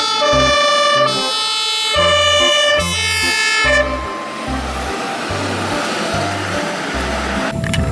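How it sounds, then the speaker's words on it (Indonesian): An electronic toy fire truck siren plays a looping melody of bright tones, then shifts to a steady wailing sweep, close and loud throughout. "Ini mobil pemadam kebakaran."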